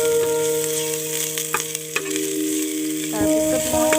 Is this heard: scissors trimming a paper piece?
no